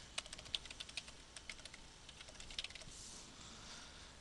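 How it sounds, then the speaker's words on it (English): Quick, light keystrokes on a computer keyboard as a web address is typed into a browser's address bar, an irregular run of close clicks over a faint hiss, with no talking. "type in your web page"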